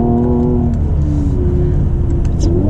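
A car engine hums steadily and builds gently as it picks up speed, heard from inside the vehicle with a continuous low drone.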